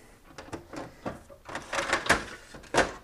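An Epson 3880 printer switches on and its paper tray slides out, giving a close series of plastic clicks, knocks and short sliding scrapes at uneven intervals.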